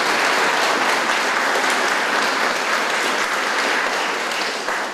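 An audience applauds a judo champion's sporting success with dense, loud, continuous clapping that holds steady throughout.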